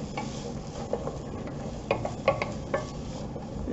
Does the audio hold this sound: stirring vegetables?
yes